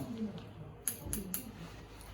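Scissors snip hair during a square layer haircut, with three quick, faint cuts close together against a quiet room.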